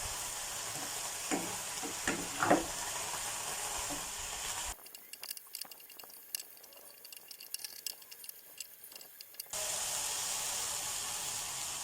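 Bai Liang leaves stir-fried with minced pork in a pan give a soft, close sizzle with scattered ticks and spatters, briefly punctuated by a few clanks, then a drier crackling stretch before the steady hiss returns; no voices.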